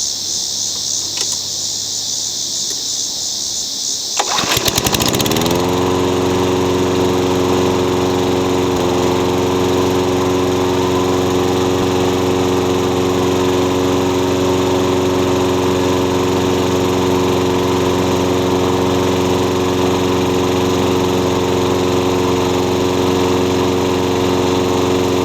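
A lawnmower, freshly serviced with an oil change, is quiet for a few seconds, then its small engine starts and settles into a loud, steady run that continues to the end.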